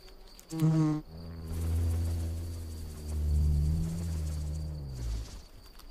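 Wild bee buzzing while provisioning its nest with pollen inside a shell, a close, loud, wavering drone with a sharp burst at the start, then sustained buzzing that swells and fades.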